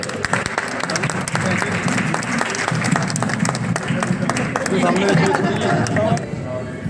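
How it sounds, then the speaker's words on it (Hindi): A large audience at a hall inauguration claps loudly and steadily for several seconds, a dense, sustained roar of many hands with crowd murmur and voices beneath it, easing slightly toward the end. "मैं एक बार चाहता हूँ कि आप जोरदार तालियां बजाकर देखिए"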